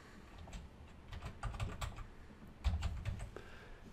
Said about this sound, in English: So I'll type that in.